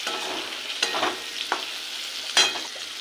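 Poppy seed paste ground with green chilli goes into a pan of fried pointed gourd and potatoes, giving a steady soft sizzle with a few sharper scraping stirs and splats of the spoon.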